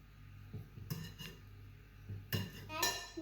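Batter for scones being mixed in a bowl, a utensil clinking and scraping against the sides in a few short uneven bursts, with quiet gaps between strokes.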